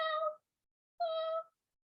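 A person imitates a kitten's meow twice, two short, clear, tonal calls separated by a pause in a quiet room.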